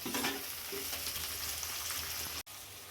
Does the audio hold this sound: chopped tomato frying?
yes